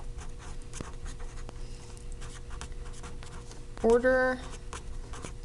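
Someone writes PEMDAS with faint scratchy strokes while a person talks over the writing.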